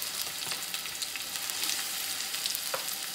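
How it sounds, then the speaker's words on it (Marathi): Finely chopped onion and green chilli fry in a pan of hot oil for a prawn curry, giving a steady, close sizzle with faint crackles and pops throughout. "एक मिरची टाकले आणि हा बारीक चिरलेला कांदा टाकला।"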